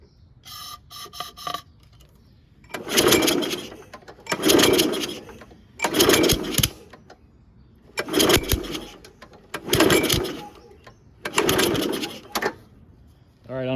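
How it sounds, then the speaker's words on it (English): Someone pulls the recoil cord on a Toro 22-inch Recycler lawn mower six times in rhythmic, close rasping bursts while its engine backfires out of the carburetor. A short mechanical rattle comes before the pulls. "it was backfiring out of the carb."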